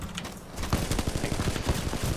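Video game gunfire in rapid, repeated bursts, close and loud, with a dense stream of sharp cracks building after a brief lull and continuing to the end, no talking.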